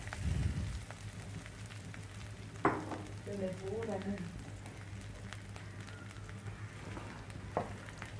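Chopped leaves fry in oil with popped mustard seeds, giving a low steady sizzle with a few sharp scrapes of a spoon and a brief voice.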